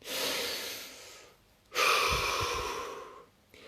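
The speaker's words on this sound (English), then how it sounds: "Deep breath." A deep breath drawn in during a guided relaxation session: a long, airy inhalation, a brief pause, then a fuller, louder breath that fades out near the end, close up with no talking.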